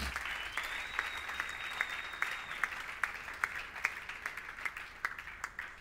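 An audience at a French-language church gathering applauds, a dense wash of clapping with rhythmic accented claps that grows steadier and more pronounced toward the end, with faint voices mixed in.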